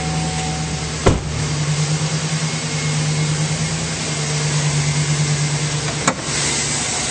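A 2009 Chevrolet Silverado 1500 pickup truck engine idles steadily with a low, even hum, recorded close, with two sharp knocks breaking in; no one speaks.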